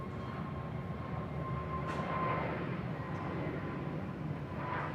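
A Vistara airliner at Bangkok Suvarnabhumi Airport gives off a faint, steady engine rumble and hum, heard at a distance for the whole span with no talk over it.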